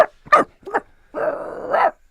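A man imitates a dog with his voice, giving several short yipping barks in quick succession followed by a longer drawn-out growling howl, close and loud with no other sound.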